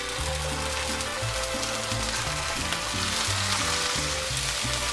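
Food fries in olive oil in a pan, a steady loud sizzle with constant snapping and crackling pops, close up and without talk.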